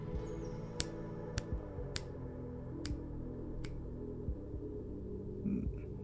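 Sharp finger snaps, about five of them at uneven intervals, crack out over a low steady hum and murmuring background tones.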